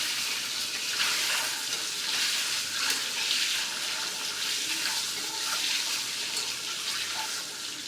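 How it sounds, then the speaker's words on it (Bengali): Eggs frying in a pan for an egg curry, a steady close sizzle with stirring scrapes and a watery, bubbling texture throughout. "ডিমগুলা ভালোভাবে ভেজে নেব।"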